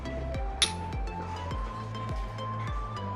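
Cups of blooming green tea clink together in a toast at a Hong Kong food stop: one bright, sharp clink stands out early over a low, steady background hum.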